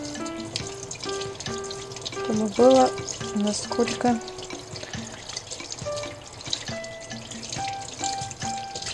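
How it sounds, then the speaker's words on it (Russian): Sea bream being rinsed under a running kitchen tap, a steady splash of water throughout with clinks and handling noises, while someone talks over it. "хорошенечко все это промыть, убрать под проточной водой"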